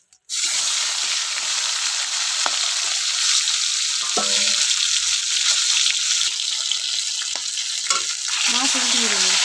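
Fish frying in hot oil gives a loud, continuous, crackling sizzle that starts abruptly and holds steady throughout, with a few faint clinks from a utensil.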